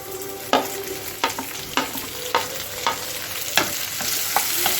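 Onions and tomatoes sautéing in a pan for a potato curry, a steady sizzle with repeated sharp scrapes and knocks of a stirring utensil spaced about half a second apart.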